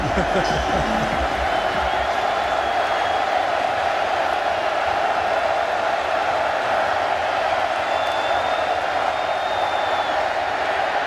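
Stadium crowd roaring at a Kentucky vs Missouri college football game, a continuous dense wall of cheering heard from the broadcast booth, steady and loud throughout with a faint whistle now and then.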